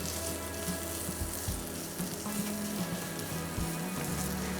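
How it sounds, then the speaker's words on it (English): Thinly sliced bacon and onions fry in a pan, a soft, steady sizzle and crackle with low bubbling and a few light knocks, fairly quiet and without talk. "you're just going to fry this until golden brown"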